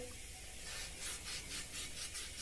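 Sandpaper rubbed over alabaster stone with water, a steady rasping scrape that swells into a rhythmic series of strokes, close and fairly quiet, with no voices.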